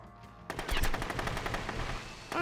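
Rapid automatic gunfire bursts out loudly in the video game Rogue Warrior, a sustained stream of closely spaced shots after a brief quiet lead-in.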